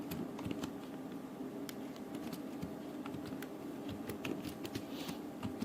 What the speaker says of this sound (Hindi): जैसे हम यहाँ पर कुछ भी सेंटेंस को टाइप कर देते हैं।